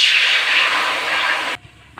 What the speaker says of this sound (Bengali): কড়াই গরম তো দেখলেন, এখন এর মধ্যে আমি জল দিয়ে দিচ্ছি।